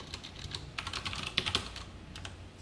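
Soft, quick keystrokes on a computer keyboard while SQL code is written in MariaDB, tapping in short uneven bursts at low volume with no voices.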